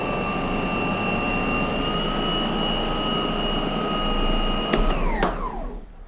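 Lindhaus LS38 commercial vacuum cleaner running on carpet with its gate closed, a loud, steady motor whine with sustained high tones, then a pitch drop near the end as the motor winds down, no talking.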